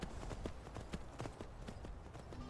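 Horse hooves clip-clop steadily in Skyrim, a quiet, evenly paced series of hoof beats near a stable, with no voices heard.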